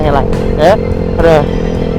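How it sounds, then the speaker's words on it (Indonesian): A motorcycle fitted with a Tridente F19 racing exhaust from Tritex Racing Evolution revs in short bursts, two loud throttle blips standing out over a steady idle while someone talks close by. "Jadi kayak gini kalau knalpot racing lo pakai Tridente kelas tertinggi dari Tritex Racing Evolution tipe F19"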